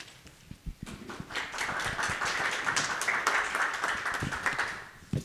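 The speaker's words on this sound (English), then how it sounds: "You got a clap for that." Applause rises from a conference audience after a talk at the World Litigation Forum in Dubai, a few scattered claps swelling into steady clapping that holds for several seconds.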